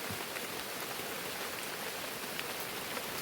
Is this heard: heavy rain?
yes